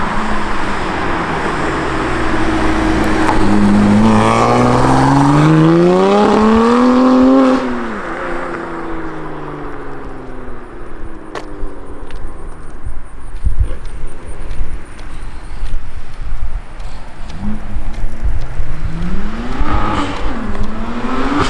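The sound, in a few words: BMW F80 M3 exhaust with Active Autowerke equal length midpipe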